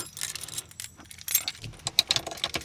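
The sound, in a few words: keys jangling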